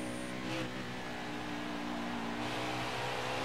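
A race car engine drones in a NASCAR video game at Texas, a sustained mid-pitched hum with steady harmonic tones and slight revving swells, fairly quiet and without talk.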